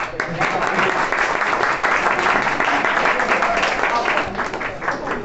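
Audience at a college farewell party clapping after a qawwali performance, a dense, steady wash of applause filling the room for several seconds without a break, with some voices mixed in.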